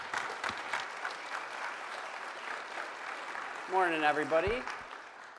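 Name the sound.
audience applause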